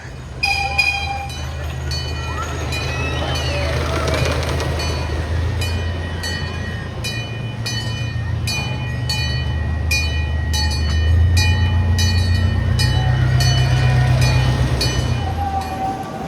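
The Comet roller coaster ride rumbles and clatters along its track for a long stretch, loud and steady with rhythmic rattling clicks and squealing metal, the roar swelling toward the end, with no talk.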